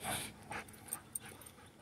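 A dog eager to play whimpers and gives soft yips, quiet and fairly distant, with a few short rising whines over faint background noise.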